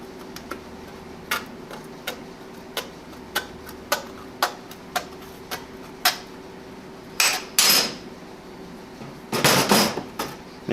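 Red aviation snips, offset to cut left, chop through sheet metal in a run of crisp, evenly spaced clicks, followed by a few louder, longer rasping cuts near the end; no one speaks.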